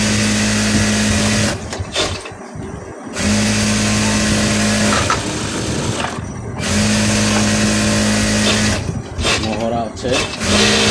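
A sewing machine stitching the sleeve of a lined two-quarter-sleeve blouse, loud and close, running in long continuous bursts with brief stops, while a person speaks over it.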